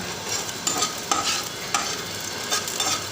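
Fried vathal is stirred into a simmering kuzhambu, a continuous bubbling sizzle punctuated by several soft scrapes and knocks of a ladle against the pot, with no voices.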